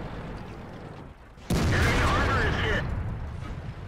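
A tank cannon in World of Tanks, in a T57 Heavy match on Ruinberg, fires one sudden loud boom that rolls into a broad rumbling tail lasting over a second before dropping back to the quieter battle background.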